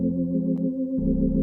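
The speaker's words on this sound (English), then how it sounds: "it gives me a 16 and an 8-foot organ flute" Organ sounding 16-foot and 8-foot flute stops together holds soft, smooth low tones. The chord shifts once partway through, with no talking.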